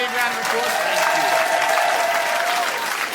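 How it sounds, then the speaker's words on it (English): Dense, steady audience applause fills a live magic show on the comedy festival stage, with a faint tone threading through and voices cheering underneath, lasting about three seconds without letting up. "Ladies and gentlemen, would you give Adrian a big round of applause?"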